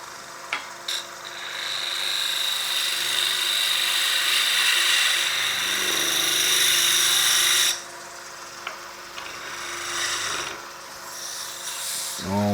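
A skew chisel cuts wood on a lathe while a peppermill is being turned, giving a loud, steady scraping hiss that runs for several seconds, then drops away to the quieter hum of the spinning lathe.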